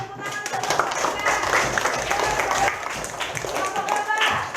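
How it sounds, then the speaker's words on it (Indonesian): A classroom of students applauds a student group after its presentation, with a dense, steady patter of hand claps running throughout and voices mixed into the clapping. "Yuk kita kasih tepuk tangan untuk kelompok 3"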